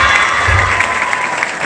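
An audience at a pesantren graduation ceremony claps briefly and loudly, a dense burst of applause with a hint of crowd noise.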